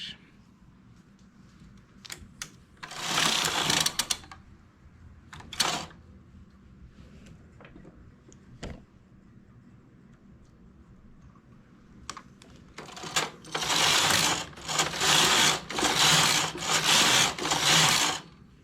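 A knitting machine works a braided scarf, its carriage sliding across the needle bed in loud rasping sweeps, separated by quieter clicks and pauses, with a rapid run of passes at the end.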